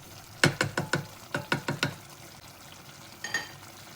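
Mrigal fish frying in a pan with oil for a Bengali curry, a run of sharp crackles and stirring clatters, then a brief sizzling burst, close and moderately loud.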